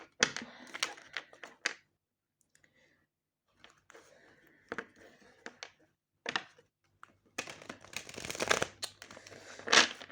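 Stiff tarot cards being shuffled in quick riffling bursts, close and crisp, with a quiet gap in the middle and a longer, louder flurry near the end.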